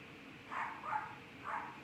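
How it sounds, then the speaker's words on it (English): Dogs bark three times somewhere in the distance, faint and spaced out over a quiet indoor background with no talking. "Oh, dogs are barking."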